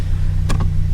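A car engine idles at around 1,000 RPM after its spark plugs were replaced at 150,000 miles: a steady, close low hum, broken by two short clicks or taps near the middle.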